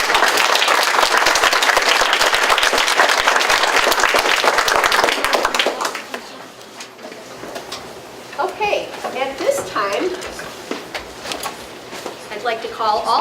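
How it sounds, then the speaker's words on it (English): A crowd at a school DARE graduation for fifth graders claps loudly and steadily for about six seconds, then the clapping stops and children's voices and chatter take over in the room. "Let's give them another round of applause."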